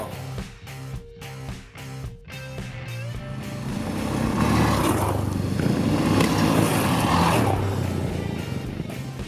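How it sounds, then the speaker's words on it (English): Yamaha XT660R single-cylinder motorcycle riding forest dirt trails in Sweden, the engine note rising steadily from a throbbing idle into a loud sustained roar as it pulls away. "heading straight into the forest for some dirt biking fun"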